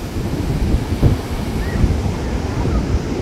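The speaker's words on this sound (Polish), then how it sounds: "nie wiem, czy będziecie to słyszeli, bo wiatry są przednie" Steady, roaring wind buffets the microphone outdoors, with a low rumble of surf beneath it and no clear voices.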